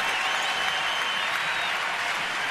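A ballpark crowd at a Marlins at Nationals baseball game applauds and cheers in a continuous, dense wash of clapping and roaring that holds steady throughout.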